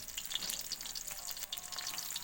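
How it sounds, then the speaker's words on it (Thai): Garlic frying in hot oil for a spicy stir-fry: a bright, crackling sizzle with scattered sharp pops and spits, steady and fairly close, no talking. "เดี๋ยวกระเทียมให้มันหอมครับเดี๋ยวน้ำมันครับผม"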